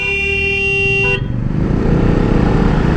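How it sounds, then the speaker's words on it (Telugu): A loud, steady bus horn blares for about a second and cuts off, then heavy buses rumble past close by on the road with a broad, rushing roar. "పొద్దున్నే ఎన్ని బస్సులు వస్తున్నాయి అబ్బా."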